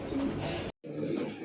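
Pigeons cooing at a breeding farm, a steady close run of low, throaty coos broken by a brief silence before resuming.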